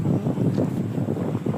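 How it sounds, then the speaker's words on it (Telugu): Cool wind blows during an outdoor walk, a gusty low rumble buffeting the microphone steadily, close and moderately loud, with no voices. "ప్రశాంతమైన గాలి, చల్లటి గాలి వీస్తుంది చూసావా?"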